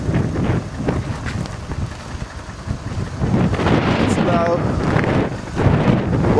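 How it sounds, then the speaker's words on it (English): Strong blizzard wind of about 40 miles per hour gusts across the microphone on a Nantucket street near a taxi stand and ferry terminal, roaring continuously with surging gusts throughout. "About 40 miles per hour wind."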